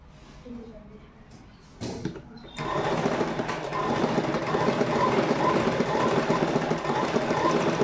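A sewing machine stitches a half-inch seam on a uniform knicker. After a quieter start with a few handling noises, it settles into a continuous, close, even mechanical whir and rattle.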